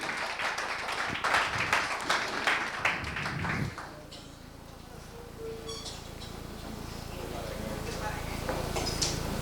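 A congregation at a Spanish-language church conference claps together in a brisk burst for a few seconds, then the applause cuts off abruptly, leaving a quiet, hollow room tone with faint stray sounds.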